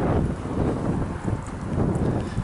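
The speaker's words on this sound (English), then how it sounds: "It's a little bit windy today." Strong seaside wind buffets a microphone on a breezy day at Skegness, a continuous loud low rumble with gusty swells and no other clear sounds.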